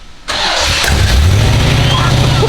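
A car with a suspected bad head gasket cranks and catches after a short quiet moment, then settles into a steady, loud idle with a low rumbling engine note, heard close up.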